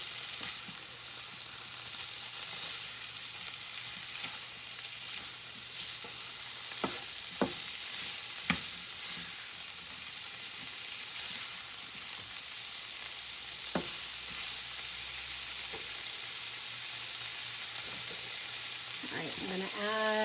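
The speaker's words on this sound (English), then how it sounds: "I am going to go ahead and add my ham. And we're going to get that cooking." About two cups of diced ham cooking in a pan for breakfast egg bowls, an even sustained sizzle with occasional spatula taps and scrapes, a steady low hum underneath.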